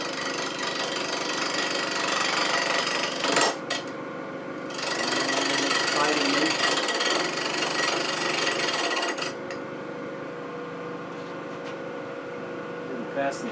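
A wood lathe turns a multi-axis twig pot while a tool cuts the chuck tenon, giving a continuous scraping, whirring hiss with brief pauses and a rougher stretch midway.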